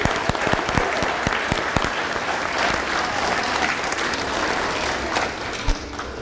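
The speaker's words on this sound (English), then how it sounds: "let's give our graduates one last round of applause" A school gym crowd claps for D.A.R.E. graduates at a 2015 elementary school ceremony, with dense sustained applause and a few sharp individual claps standing out near the start.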